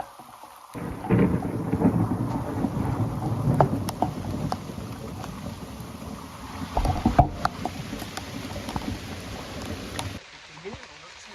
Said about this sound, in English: Oh, that's some moody thunder. That's quite close, that one.